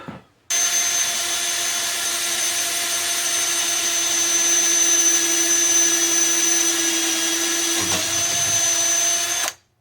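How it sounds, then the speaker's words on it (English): A power drill whirs steadily at high speed for several seconds, close by, drilling holes in a bicycle frame for bottle bosses, with a brief dip in pitch near the end before stopping. "Now I'm going to drill these holes."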